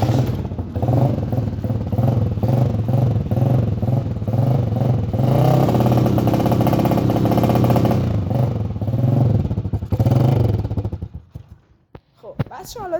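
A 125cc motorcycle engine idles and revs steadily through its standard exhaust, a loud, pulsing rumble close by that cuts off near the end, with someone speaking over it.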